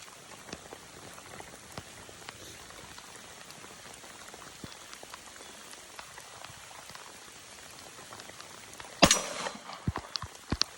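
Steady rain falls at an outdoor shooting range, a constant close hiss of drops with scattered louder patters, and near the end one brief sharp burst stands out above the rain.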